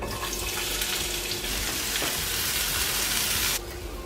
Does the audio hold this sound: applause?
no